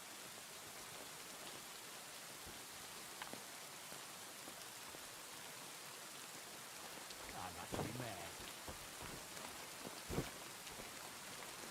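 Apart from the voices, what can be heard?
rain falling in video game Kingdom Come: Deliverance II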